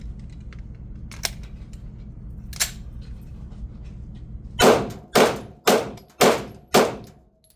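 Five sharp, loud shots from a handgun fired in steady succession at a shooting range, each with a short ringing decay, preceded by a few faint clicks of handling against a low background hum.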